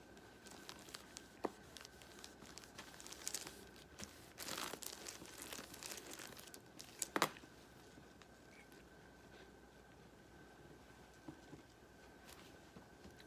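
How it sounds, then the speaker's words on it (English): Third graders wiping their small whiteboards clean after a math exercise: a quiet, scattered rubbing and scratchy crinkling that builds into a denser burst midway, then fades to faint occasional scuffs, with no talking. "Go ahead and erase your board."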